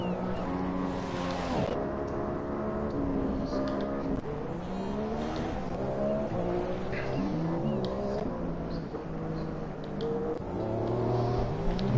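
Race car engines in F1 2016 at Monaco, a continuous loud whine of revving and shifting, pitch climbing and dropping through gear changes as cars accelerate and brake, with no talk.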